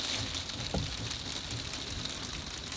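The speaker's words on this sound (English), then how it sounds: "It is starting to rain now." Rain patters steadily on the roof and surfaces around a Hymer 584 A-class motorhome, a dense continuous wash of drops heard alone from start to finish.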